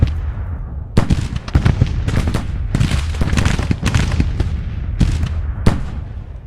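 Artillery fire in the Civil War video game Grand Tactician rings out in a dense run of sharp booms and cracks, some close and loud, others overlapping in rapid volleys with rumbling tails.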